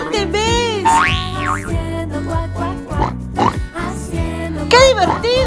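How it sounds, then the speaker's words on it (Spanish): A cartoon pig oinks and grunts amid bouncy boing effects and playful tones in a children's animal-sounds game, loud, close and busy throughout. "¿Saben qué animal hace oink, oink?"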